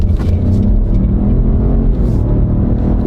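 A car with a 1.3 liter turbo engine and automatic transmission accelerates, its engine rumbling and rising in a loud, close, steady pull with no talk.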